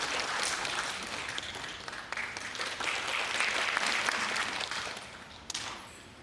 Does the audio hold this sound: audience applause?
yes